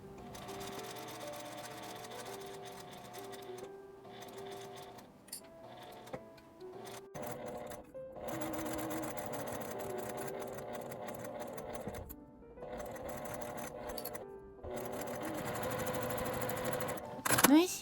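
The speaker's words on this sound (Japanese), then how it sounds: "1センチ内側を縫います。" A sewing machine stitches a small keychain pouch, its rapid rhythmic clatter running in several bursts with brief pauses between, close and moderately quiet throughout.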